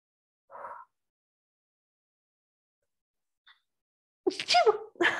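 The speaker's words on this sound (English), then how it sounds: "Sorry, I had to sneeze." A single short sneeze, fairly close, followed after a pause by a person beginning to talk.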